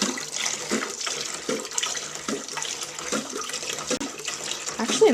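Water pours steadily into the reservoir of a Miracle-Gro AeroGarden Bounty indoor garden, a close, continuous gushing and splashing that runs throughout with small surges.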